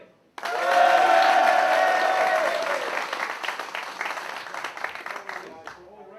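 A crowd at a pool tournament, the Predator Eurotour Luxembourg Open, bursts into loud applause with some cheering, the clapping peaking quickly and then gradually thinning out over several seconds.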